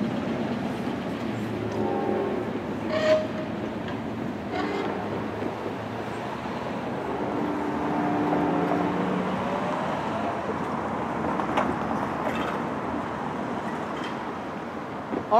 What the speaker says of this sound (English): Amtrak 80 goes north with P42DC number 5 in command. Let's listen to him go into the distance.